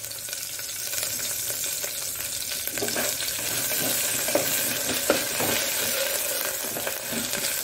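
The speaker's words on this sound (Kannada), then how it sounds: "ನೋಡಿ, ಸ್ವಲ್ಪ ಈ ಆನಿಯನ್ ಬ್ರೌನ್ ಸ್ವಲ್ಪ ಕಲರಿಗೆ ಬರುವಾಗ ಸ್ವಲ್ಪ ಇದರಲ್ಲಿ ಸ್ವಲ್ಪ ಫ್ರೈ ಆಗಲಿ" Onion frying in ghee and oil with cardamom, black pepper and green chillies, a constant close sizzle with occasional spatula stirs and small pops, growing slightly louder through the clip.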